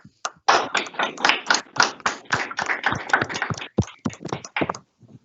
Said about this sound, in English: So let's give them another round of applause, please.